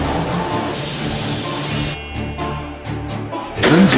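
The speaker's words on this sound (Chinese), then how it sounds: "清洗底盘油泥" A pressure washer sprays hard against the oily, grime-caked undercarriage of a Mercedes S350 W221, a loud, close continuous hiss and roar that shifts in tone as the jet moves across the metal, with a brief dip near the end.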